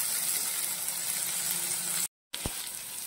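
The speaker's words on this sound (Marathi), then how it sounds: "हे जे आपण उकडून घेतलेले आहे वाटाणा तेही आपल्याला परतून घ्यायचं आहे." Boiled green peas sauté in a pan for a samosa filling, giving a steady close sizzle that cuts out briefly before a light clack and the frying resumes.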